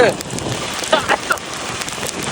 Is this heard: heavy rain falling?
yes